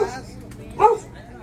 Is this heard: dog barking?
yes